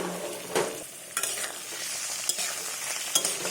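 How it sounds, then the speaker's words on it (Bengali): Chicken and chopped onions fry in a pan, a soft steady sizzle broken by a few sharp scraping stirs of the spatula, quiet and close with no voices. "তো একটু হালকা চিকেনটা ভেজে নেব।"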